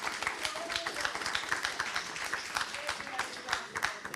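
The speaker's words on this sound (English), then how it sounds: "So a round of applause there." An audience applauding at final project presentations, with brisk, rhythmic clapping from a modest crowd that continues steadily throughout.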